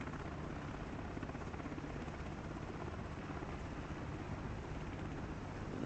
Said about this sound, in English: There's helicopter for law enforcement.